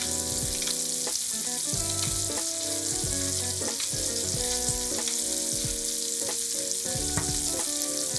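Vegetables cook in fat in a pot for a one-pot low-FODMAP lentil soup. The steady, close sizzle runs the whole time beneath melodic background music, with no talking.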